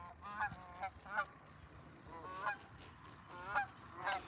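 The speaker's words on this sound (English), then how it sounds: "There goes the geese, the honkers" Canada geese honking over a reservoir, a series of about eight nasal honks in a loose irregular rhythm, moderately distant and fairly faint, with no talking.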